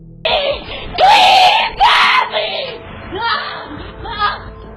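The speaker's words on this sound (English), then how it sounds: "Her screams cut through the silence." A woman screams in terror as a man grabs her from behind outside a home, caught on a doorbell camera; several long, loud, wailing shrieks rise and break over about four seconds, trailing into shorter cries.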